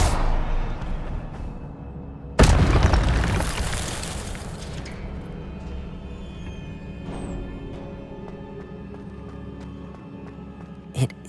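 A burst from the Incendio fire spell in Hogwarts Legacy erupts in a loud, sudden blast that decays over a couple of seconds into a rumbling crackle, then settles to a quieter ambient bed, with a short pop near the end.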